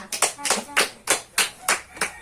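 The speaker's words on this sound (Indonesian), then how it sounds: "tepuk tangan untuk kita semua" A group clapping hands together in a classroom team-games session, eight crisp, evenly spaced claps in a steady rhythm, close and distinct with quiet gaps between them.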